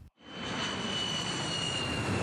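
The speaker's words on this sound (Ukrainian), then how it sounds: "Швидкість надзвукового літака 1400 км на годину." A supersonic jet aircraft roars past as a sound effect: a loud, steady, broadband rush with a thin high whine running through it. It builds almost instantly after a brief gap and holds at full strength, with no voices.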